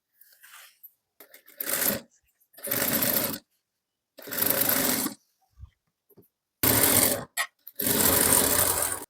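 Sewing machine stitching fabric for a sharara bottom, running in several short loud bursts separated by pauses, close up and alone.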